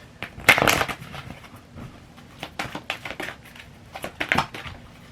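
A deck of tarot cards is shuffled by hand, giving a few irregular crisp, papery flurries of snapping and rustling with short quiet gaps between them.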